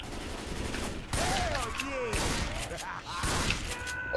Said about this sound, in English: Stop shooting me, Rochelle.